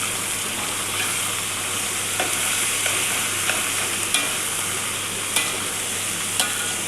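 Chicken curry frying and being stirred in a pan, with ginger and garlic, in a village kitchen; a steady close sizzle runs throughout, broken by sharp scrapes and clacks of the spoon against the pan.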